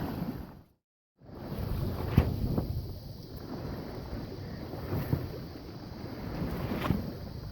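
Wind rushing over a 19-foot sailboat as it cruises along the coast under a red light-air Code Zero sail. A steady broadband roar with gusty swells and a brief dropout near the start, with no talking.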